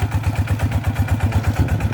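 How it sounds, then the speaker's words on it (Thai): A single-belt walking tractor engine runs revved up on a paddy field, making a heavy, fast, regular chugging pulse up close with no speech. "เร่งเครื่องเท่านี้นี่ เดินแทบไม่ทันนะครับ แล้วก็เสียงเครื่องจะหนักๆหน่อยนิดนึง"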